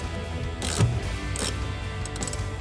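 Ratchet wrench clicks rapidly while backing out the last bolt of a 2013-2018 RAM 1500 powered heated side mirror, close metallic pawl ticking in short bursts.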